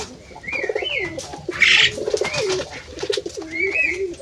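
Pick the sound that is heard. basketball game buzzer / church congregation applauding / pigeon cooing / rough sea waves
pigeon cooing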